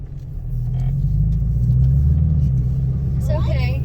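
A Ford Mustang GT swings through a wide U-turn, its engine a steady, loud low rumble heard from inside the cabin throughout, with a brief voice near the end.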